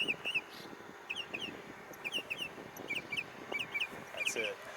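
A bird sings repeatedly with short bright phrases at a steady pace, heard beside a commute on an eBike under faint traffic noise and wind.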